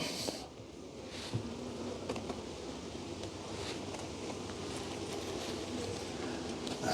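Honey bees hum steadily around an open hive, a soft continuous buzz with individual insects passing close now and then.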